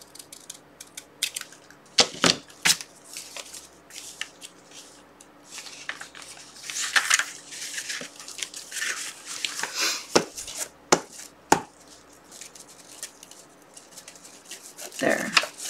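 Paper envelope journal being trimmed at one end, giving sharp scattered snips and rustles of paper close by, with a voice speaking intermittently between the cuts.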